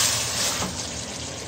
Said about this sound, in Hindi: आप इसमें थोड़ा थोड़ा पानी डालते रहें